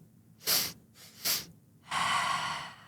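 Sharp breathing exercise: three quick, forceful inhales through the nose, the middle one softer, followed by a long, steady rushing exhale, close and clear.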